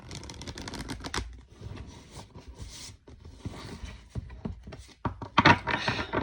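Oracle or tarot cards being pulled from a deck and handled: crisp shuffling, flicking and tapping in irregular bursts close by, with a sharper flurry of card handling near the end.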